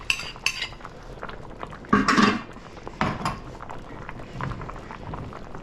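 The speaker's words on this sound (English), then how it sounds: "So chop some eggs with some eggshells." Boiled eggs with their shells are chopped in a kitchen, giving irregular knocks and clinks of metal against a board or dish, with a louder cluster of hits in the middle.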